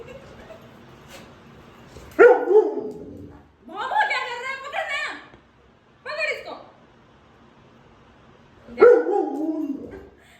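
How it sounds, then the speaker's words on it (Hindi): A dog barks several times in loud, close bursts with whiny yips between, while someone talks over it. "ये सोचता है मेरे को भौंकने से हमेशा चीज मिल जाती है, इसलिए भौंक रहा है।"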